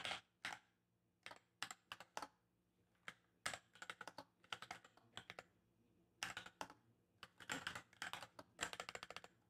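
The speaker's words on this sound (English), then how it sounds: "So it's going to take some time to figure out my typing here." Keys clatter on a DIY split ergonomic keyboard in bursts of quick, uneven strokes separated by short pauses, close and fairly quiet with no voices.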